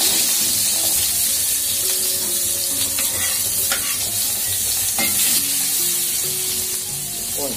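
Spice paste stir-fried in hot oil for a dish of kencur leaves, with a steady close sizzle and repeated scraping and stirring clatters of a utensil in the pan.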